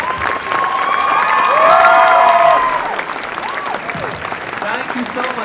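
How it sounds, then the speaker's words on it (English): An audience claps and cheers for a speaker at a university Big Idea competition, loud sustained applause with whoops and shouts rising in the middle and tapering off, a voice calling out over the crowd. "Now you can stand up and clap hard like this"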